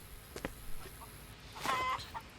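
Chickens in the video game Contraband Police, a few short quiet clucks and bird calls scattered over faint background, with one brighter squawk near the end.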